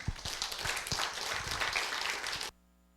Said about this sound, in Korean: 큰 환영의 박수 부탁을 드립니다.